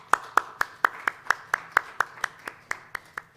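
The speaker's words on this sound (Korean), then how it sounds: "우리 한번 격려의 박수 한번 해주시면 감사하겠습니다." A church congregation clapping in encouragement during a Sunday morning service, a slow, even rhythm of single synchronized claps, about four per second, moderately loud and without talk.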